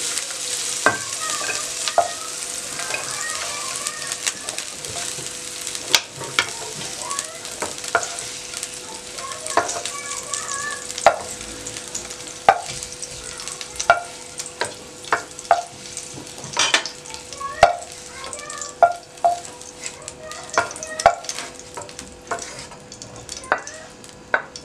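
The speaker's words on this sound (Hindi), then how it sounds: "गाजर और मटर दोनों सख्त होते हैं तो इनको इकट्ठा फ्राई कर लेते हैं।" Carrots and peas stir-frying in a pan, a steady soft sizzle broken by frequent scraping clicks of a spatula stirring the vegetables, close and fairly loud, with no talking.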